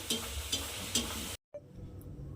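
Pea-stuffed kachoris deep-fry in hot oil with a close, steady sizzle that cuts out abruptly for a moment, then returns softer.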